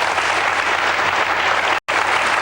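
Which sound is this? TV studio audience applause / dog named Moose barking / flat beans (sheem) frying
TV studio audience applause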